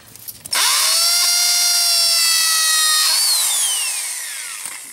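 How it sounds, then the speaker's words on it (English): A power drill drilling into stucco spins up suddenly with a high whine, holds steady for a few seconds, then winds down as the pitch drops. "And I drill into here"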